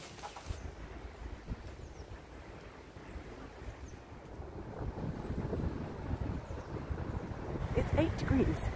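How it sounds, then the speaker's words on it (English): A cold wind blows across a microphone outdoors on a walk near botanic gardens and a canal in Inverness, making rough, rumbling buffeting that swells louder toward the end. "Actually a real pretty cold wind, so I've had to put my hat on"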